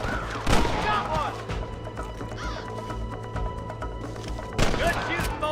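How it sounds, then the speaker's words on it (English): Gunshots in the video game Red Dead Redemption, two loud sharp cracks spaced a few seconds apart over a busy game soundscape, with voices speaking in between. "Good shooting, boy."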